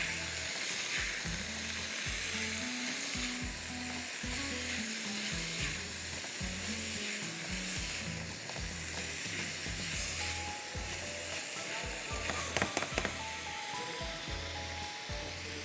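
Onion and garlic frying in a pan give a loud continuous sizzle with stirring scrapes underneath, and a brief clatter near the end.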